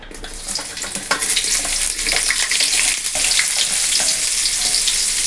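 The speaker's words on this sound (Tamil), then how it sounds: "முதலில் வெண்டைக்காயை போடவும்." Okra sizzles and spits as it fries in hot oil in a pan, a steady close crackle with a few stirring clatters and scrapes running throughout.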